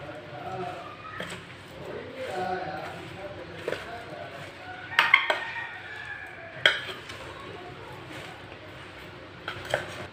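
A spoon stirs spices such as turmeric and nigella seeds for mango pickle in a bowl, giving soft scraping swirls and several sharp metallic clinks against the rim, quiet and close, with a person talking throughout.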